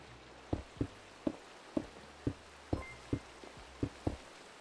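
Rain falling in the video game Minecraft, heard as a sparse series of short, soft pattering drops at a steady irregular rhythm over a faint hiss, fairly quiet and with no talking.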